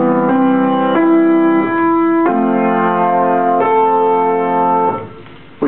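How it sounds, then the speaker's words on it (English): A keyboard plays a short, slow melody of sustained single notes with a lower auxiliary note near the start, each tone clear and ringing before the next, ending after about five seconds. "So our melody now sounds like this."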